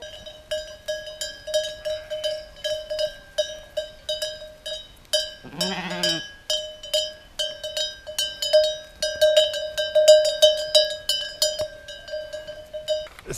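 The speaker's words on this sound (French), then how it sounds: "c'est ces rencontres avec Des moutons" Cowbells clank continuously from a flock of sheep met on a mountain hiking trail on the Tour du Queyras GR58, with a single bleat in the middle and an irregular jangling rhythm that thickens toward the end.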